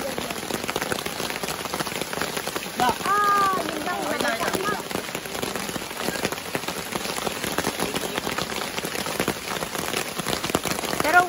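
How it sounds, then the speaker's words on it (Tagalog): Steady, fairly heavy rain drums on a campsite, a constant close hiss of drops, with brief voices talking faintly over it partway through. "Umuulan. Medyo malakas."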